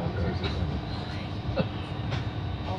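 A train rolls along steadily from Apperley Bridge toward Leeds, heard from inside as a low continuous rumble with faint squeals and clicks, quiet throughout; no one speaks over it.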